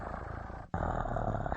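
A human voice imitates a cat purring, a close, loud rolling rumble with a short break partway before resuming steadily, heard alone.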